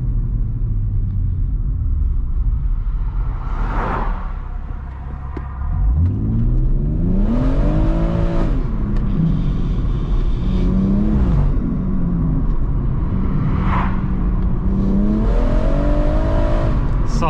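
A BMW M140i accelerating hard from standstill in a 0-60 run, a loud close engine rising in pitch through several gear changes with brief dips between shifts, heard from inside the car over a constant road rumble.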